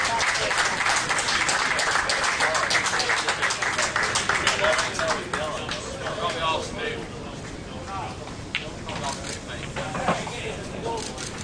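Audience applause for the winner of an IPA Tour pool event at Warwick as the trophy is handed over, steady dense clapping with crowd voices and cheers mixed in, easing slightly toward the end.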